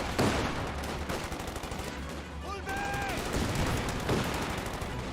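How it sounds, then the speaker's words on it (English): A rifle grenade fired in Company of Heroes 2 amid a loud, dense battle of rapid gunfire and bursts, with a brief whistling tone in the middle and a caster talking over it. "Rifle grenade fired."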